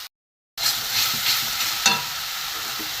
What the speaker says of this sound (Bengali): একটু ভেজে নিই, কষে নিই একটুখানি।